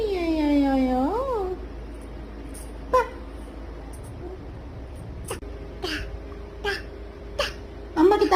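A human voice imitating a cat, giving one drawn-out wavering meow up close, followed by quiet stretches with a few soft clicks and small noises.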